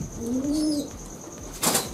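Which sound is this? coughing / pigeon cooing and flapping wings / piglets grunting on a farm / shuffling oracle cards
pigeon cooing and flapping wings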